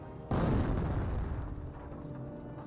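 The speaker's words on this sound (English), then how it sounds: "There goes the 60mm mortar." A 60mm mortar fires in Company of Heroes, one sudden heavy boom followed by a long rumbling decay that trails off over a couple of seconds.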